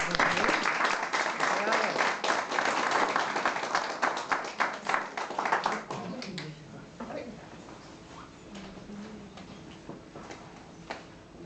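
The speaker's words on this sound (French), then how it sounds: "je vous demande d'applaudir à Madame Robiol" An audience at a cultural association evening in France applauds a guest speaker, a full round of clapping that thins into scattered claps after about six seconds, with a voice speaking softly as it fades.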